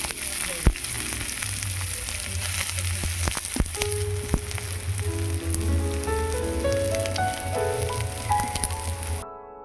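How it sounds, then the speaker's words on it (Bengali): Chopped onions fry in hot mustard oil for a potato chop filling, a steady close sizzle with a few sharp crackles and clinks of stirring, ending abruptly. "দিয়ে দিচ্ছি সরিষার তেল, দিয়ে দিচ্ছি পেঁয়াজ কুচি"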